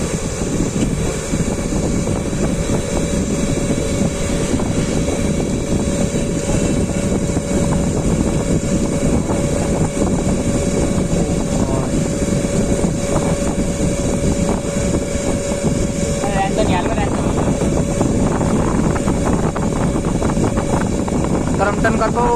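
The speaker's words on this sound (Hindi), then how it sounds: "अब जा रहा है इसका मैक्सिमम प्रेशर, आप देखो आवाज बदल गई।" A silver DMS 10D 1 HP high-pressure pump motor runs at maximum pressure, a loud, steady, dense drone with a constant hum, with voices speaking over it.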